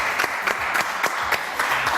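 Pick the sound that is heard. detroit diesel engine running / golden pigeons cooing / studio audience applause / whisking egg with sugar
studio audience applause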